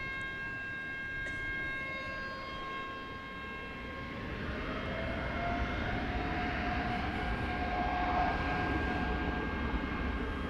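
A long-haul airliner departs DFW at night, its rising whine and roar building over the clip from a distance, with a high steady engine tone running through.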